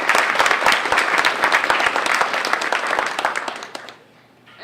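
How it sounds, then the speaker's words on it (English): An audience at a Roosevelt School 100th anniversary celebration gives its speakers another round of applause, with loud, crisp, dense clapping that carries for about four seconds before fading to near silence. "Can we please give our speakers another round of applause?"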